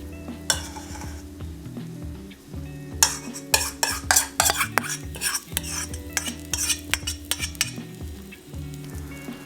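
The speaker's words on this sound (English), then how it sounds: "Spoon the batter into the middle like this. We use medium-high heat here to stop it from spreading." Okonomiyaki batter spooned into a hot frying pan on medium-high heat, crackling and sizzling close by while a spoon repeatedly clinks and scrapes against the pan in uneven bursts.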